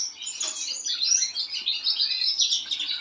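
A pet bird chirps and tweets nonstop indoors, high bright calls in quick overlapping bursts, fairly loud and close, with no speech.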